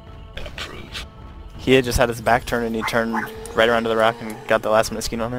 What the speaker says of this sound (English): I hear a small dog yapping.